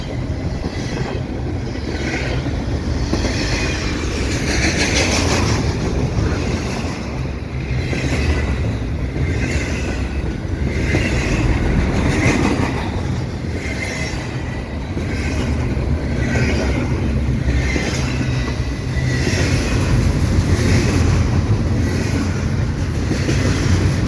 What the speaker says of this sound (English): This train is heading eastbound.